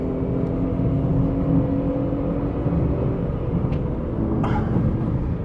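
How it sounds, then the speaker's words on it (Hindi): Tata Tiago CNG AMT hatchback held at the red line in third gear before the automated gearbox upshifts, a steady loud engine drone with dense broadband rumble and no voices. "अभी 3rd gear में है गाड़ी at the red line"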